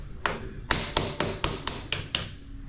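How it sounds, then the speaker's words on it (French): Sharp hammer taps on a red Ultimate World Cup mountain bike suspension fork during an air shaft swap, seven distinct close metallic knocks spaced about a quarter second apart, clear and alone. "Faut pas se louper avec le marteau"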